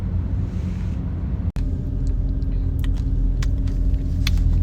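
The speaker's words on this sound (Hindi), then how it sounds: "जो है फेरी चलना शुरू हो गई है" A ferry's engine rumbles steadily at sea with cars parked aboard, a deep continuous drone with light clicks and knocks and a brief dropout partway through.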